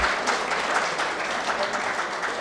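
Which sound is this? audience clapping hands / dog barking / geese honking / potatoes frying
audience clapping hands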